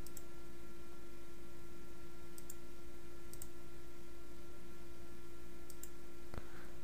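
A computer mouse clicks while someone edits an exterior level in the Dragon Age toolset. A few crisp, quiet clicks come at irregular intervals over a faint, steady hum.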